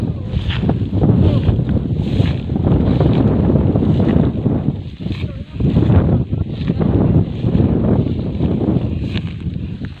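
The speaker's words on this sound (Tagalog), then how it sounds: "Hangin." Strong wind gusts across an open rice field, buffeting the microphone in loud, rushing surges.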